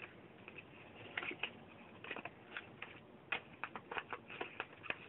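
Scissors snipping open the plastic packaging of a DiGiorno frozen pizza, a faint series of irregular crinkly clicks and snips close by.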